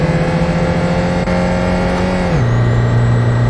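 A Ford Transit van engine in Euro Truck Simulator 2 revs loudly and steadily as it accelerates, with the drone shifting down into a lower, heavier hum partway through, like a gear change, and no talk over it.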